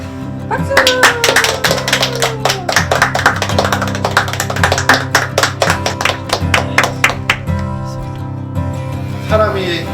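A group of people claps hands in celebration, loud and close, in a fast, steady rhythm that lasts most of the stretch over sustained music tones, then fades out near the end.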